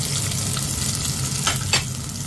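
Garlic and onion fry in olive oil with a steady, close sizzle and a crackling hiss that swells briefly near the end, with no voices.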